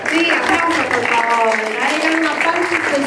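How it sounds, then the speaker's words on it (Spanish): Guests at a quinceañera party clap under loud amplified talk, a continuous patter of applause from the room beneath a voice speaking Spanish over a sound system. "Sí, aplausos, por favor."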